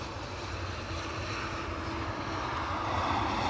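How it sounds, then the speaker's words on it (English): British Airways Embraer 190 jet at Edinburgh airport, a steady, fairly distant engine rumble and roar that swells slightly toward the end, with no voices. "our first Embraer 190 of the show, courtesy of British Airways"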